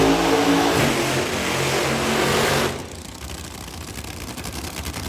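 A nitro drag racing car with a 12,000-horsepower engine revving at a night drag strip, a loud roaring blast for nearly three seconds before it cuts to a quieter, rumbling crowd and ambient noise.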